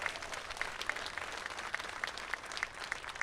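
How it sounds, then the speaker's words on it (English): Sustained applause from an audience at the AltaSea Solar Stars Initiative event with Arnold Schwarzenegger, a steady wash of many hands clapping at moderate distance, with no speech over it. "give them all a great big round of applause."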